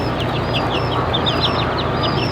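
Several Delaware and Sussex chickens chirp and cluck in quick, high-pitched bursts over a steady, noisy background.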